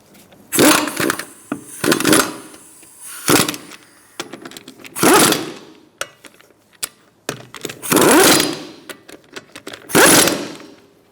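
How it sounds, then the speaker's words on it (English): Wheel nuts on a Fiat being snugged with a 17mm socket in a crisscross pattern, sharp bursts of ratcheting and clacking separated by short pauses, close and fairly loud. "Using a 17mm socket, we're going to tighten them up."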